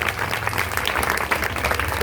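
An audience claps steadily to welcome a teacher at a school inauguration function, dense applause filling the hall with voices mixed in.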